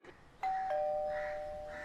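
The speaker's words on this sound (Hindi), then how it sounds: "मैंने दरवाजे की घंटी बजाई" A house doorbell rings once with a clear two-tone electronic ding-dong, the second tone ringing out and fading slowly. It sounds close and sits over quiet room tone with no talking.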